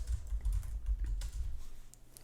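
Computer keyboard typing in a steady run of light clicks over a low hum, keys tapped while entering functions into Kibana 5's timeline tool, close and continuous with no voices.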